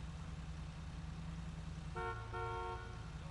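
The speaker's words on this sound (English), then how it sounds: "Now they start beeping." Car horns beep in GTA 5 traffic at a stop light, a couple of steady honks sounding over a low engine rumble, moderately loud and without talk.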